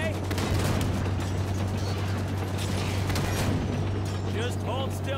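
Rapid weapon fire from Halo 5: Guardians crackles in dense bursts alongside mechanical clanks and a steady low hum, loud and continuous, with a voice talking over the shooting.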